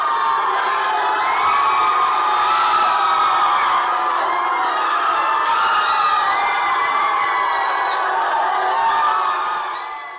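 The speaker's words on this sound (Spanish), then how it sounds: "se reproducen gritos de dolor aludiendo a las mujeres y niñas que quedaron encerradas durante un incendio" Recorded screams of pain from women and girls, played back in a sound installation, form a dense, continuous wall of shrill, overlapping cries that stays loud throughout and fades slightly at the very end.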